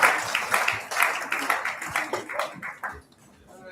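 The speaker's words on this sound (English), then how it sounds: "Can you help me by giving a sounding clapping ovation to this most important person?" Audience applause at a university convocation ceremony, a steady patter of many hands clapping from a crowd, fading out toward the end.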